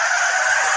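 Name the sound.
car braking hard, tires skidding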